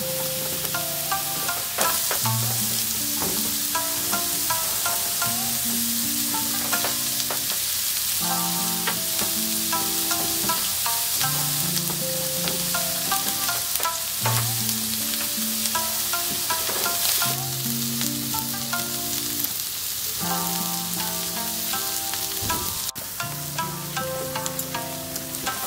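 Onions stir-frying in a pan for Okinawan somen champuru, a steady bright sizzle running throughout beneath louder melodic background music.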